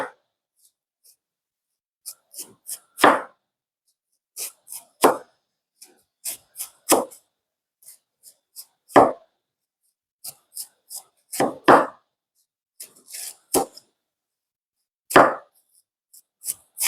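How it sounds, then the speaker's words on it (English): Knife chopping through cabbage on a board for a Zimbabwean side dish, heard as irregular, close, crisp cuts in short bursts with quiet gaps between, no talking. "Now guys, I'm going to cut some cabbage for my side dish."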